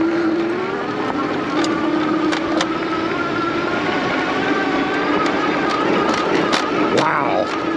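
A Varun X-Plorer Raptor electric bike rides off-road with a steady whining motor tone under rushing wind noise, plus scattered small clicks and rattles from the terrain, close and continuous.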